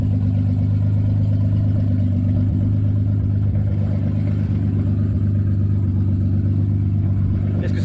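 A Porsche 911 Turbo's boxer engine runs steadily at a low, even idle, a deep droning hum with faint mechanical clatter, close and continuous with no talking.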